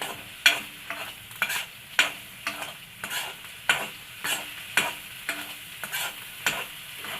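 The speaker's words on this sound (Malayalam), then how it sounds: "ഇനി ഇത് ഇതിലോട്ട് ഇട്ട് കൊടുക്കാം നമുക്ക് ഇങ്ങനെ ഇളക്കി കൊടുക്കണം" Soya chunks frying in oil in a pan are stirred with a series of regular scraping strokes, each with a short sharp click, over a steady sizzle and no talking.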